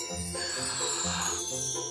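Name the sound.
jingle bells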